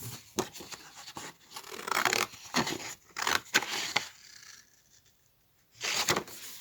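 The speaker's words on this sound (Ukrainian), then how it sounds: "Ріжемо серединкою лез, а не кінчиками ножиць." Scissors cut through a cardboard passe-partout picture mat in a series of close, dry, crunching snips and scraping strokes, with brief pauses between cuts and a longer gap near the end.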